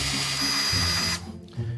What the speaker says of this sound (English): Drilling a hole to fit the new bolt.